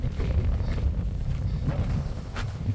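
A strong headwind buffets the microphone outdoors on a long path, producing loud, continuous low rumbling gusts with no clear voice over it.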